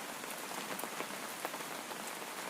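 Steady rain falls on a surface, forming a dense, even patter of drops that stays constant throughout, with no voices.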